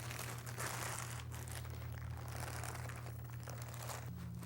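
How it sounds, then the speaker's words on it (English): A whole raw turkey is pulled from a plastic brining bag, giving steady crinkling and rustling of plastic over a constant low hum throughout, with no talk. "Take the turkey out of the bag."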